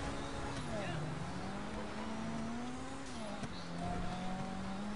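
Car engine from GTA V as it drives on snow, a steady droning hum with pitch rising and falling through turns, with someone talking over it throughout.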